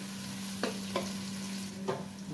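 Onions fry in a pan being browned, with a steady close hiss and three sharp spoon scrapes spaced through it.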